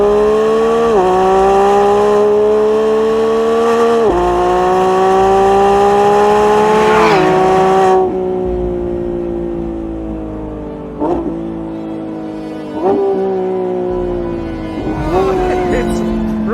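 A Lamborghini Revuelto, a V12 hybrid, accelerates hard with loud rising engine howls, climbing through the gears with sharp shift breaks and surging again, close and dominant throughout, with speech at times under it.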